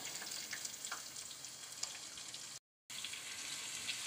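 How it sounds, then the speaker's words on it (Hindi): A large sliced onion fries in hot oil with cumin seeds, giving a steady, close, hissing sizzle with faint crackles that breaks off for a moment. "ज़ीरे के कुछ चटकते ही मैं इसमें एक अदद प्याज, जो कि मैंने स्लाइस में काट लिया है"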